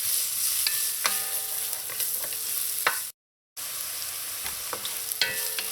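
Onions softening in hot oil for a Trinidad breadfruit oil down, a steady sizzle with scattered stirring clicks, broken by a brief silent gap midway.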